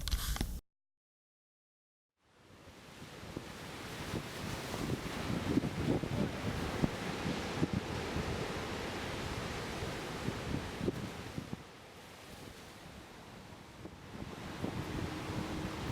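Wind gusts buffeting the microphone over steady ocean surf on a Gran Canaria beach at night, a constant rushing roar after a brief quiet gap at the start.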